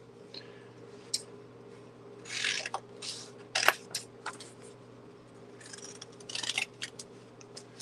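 Scissors snip through paper in a few quick cuts amid soft rustling and ticks over a low steady hum, moderately close.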